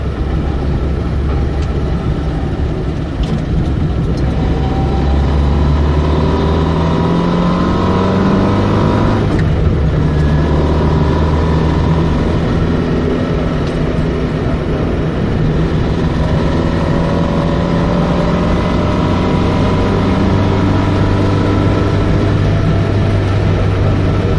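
A Fiat 127S with a 903cc engine drives along a winding country road, its small motor droning loudly and continuously, pitch rising and falling through acceleration and gear changes, heard from inside the cabin.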